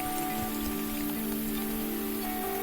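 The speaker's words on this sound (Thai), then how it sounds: "นี่ฝนตกหนักเริ่มหนักแล้วนะครับ" Heavy rain pours down outdoors in a dense, continuous hiss that stays steady throughout, with a faint low hum beneath it and no voices.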